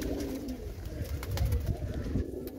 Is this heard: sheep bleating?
no